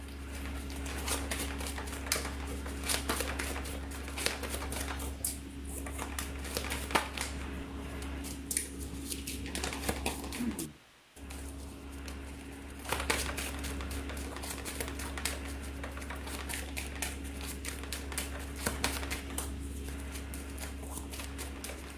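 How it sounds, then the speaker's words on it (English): Trading cards from a Yu-Gi-Oh duel being shuffled back into the deck, a long run of rapid crisp card riffles and taps, fairly close, over a steady background hum with a brief pause midway. "I shuffle these 5 cards back into the deck to draw 1 new card."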